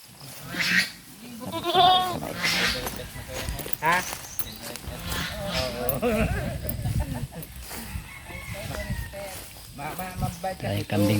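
Several goats bleat on a farm, their wavering calls repeating close by and mixing with steady conversation in the foreground.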